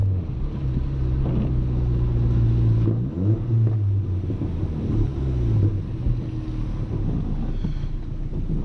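A turbocharged Audi A3 1.8T drives in the rain, its engine droning and rising in pitch as it accelerates, with a dip and renewed pull midway, steady road and wind rush underneath.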